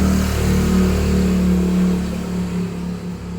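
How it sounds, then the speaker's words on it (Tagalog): A motorcycle engine revs and rolls past on a quiet residential street in a gated community on the Marikina–Antipolo boundary, loud and close at first, then fading away. "Tayo, may dadaan motor."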